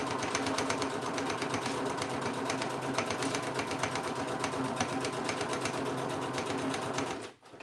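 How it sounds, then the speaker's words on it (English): A Juki DDL 8700 industrial lockstitch sewing machine runs steadily and loudly for several seconds with a dense, rapid stitching chatter, then stops abruptly at the end. "So I am getting a Juki DDL 8700 lock stitch"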